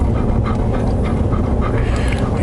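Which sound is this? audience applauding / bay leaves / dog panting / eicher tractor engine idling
dog panting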